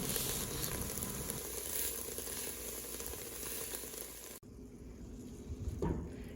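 Chopped onions sautéing for a dairy-free green chile chowder sizzle steadily in a hot pan, a dense, close crackling hiss that cuts off abruptly near the end, leaving a fainter sizzle with a brief stir.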